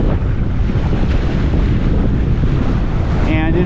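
Steady wind buffets the microphone over open water in a sailing strait between islands, a loud continuous broadband roar with sea and surf underneath, no voices.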